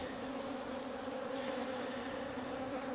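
Honey bees buzz steadily at an open hive while colonies are split, a dense, even drone of many wings, close and continuous with no talking.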